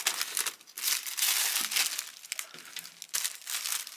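Wrapping paper crinkles and rustles in bursts of handling, crisp dry crackles that rise and fall close by with brief pauses between, and no speech over it.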